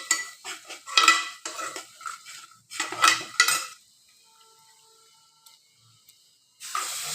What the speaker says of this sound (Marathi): मस्त चांगलं असं हलवतो.